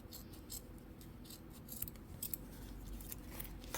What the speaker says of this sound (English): I'm going to go ahead and trim just the exterior on the zipper ends on both sides